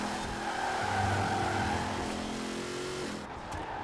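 A 1992 GMC Typhoon in Forza Horizon 4 races hard, its engine roaring steadily with shifting tones and a tire skid, loud and continuous with other upgraded V12 cars nearby.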